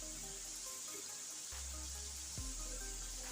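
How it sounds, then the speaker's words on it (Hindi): Water pours into a pot of ghee-fried spices for besan khandviyan, a continuous liquid rush with a low gurgling splash shifting in tone midway, heard alone at moderate level. "अब हम इसमें पानी डाल देंगे।"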